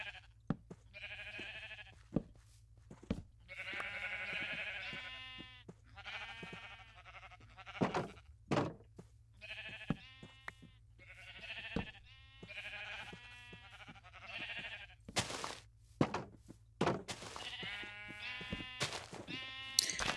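Sheep in the video game ChainWorld bleat again and again, the calls overlapping in uneven bursts, sometimes with sharp clicks between them, alone and with no talking.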